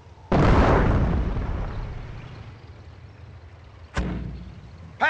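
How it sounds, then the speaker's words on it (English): A loud mortar blast in the Company of Heroes game, a sharp impact with a long rumbling decay, then a second lighter thud and the start of another burst near the end. "Mortar here!"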